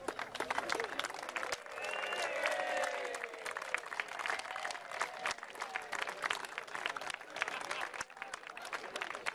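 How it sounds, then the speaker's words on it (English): A crowd at an outdoor flag-raising ceremony claps steadily for about nine seconds, with cheering and excited voices rising over the clapping. "I'm sure there'll be spontaneous applause as this flag"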